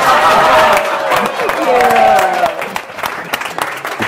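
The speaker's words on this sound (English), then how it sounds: "And now let's do a round of applause for Kathleen." An audience applauds for Kathleen, a dense wash of clapping lasting about four seconds that thins slightly toward the end, with voices talking over it.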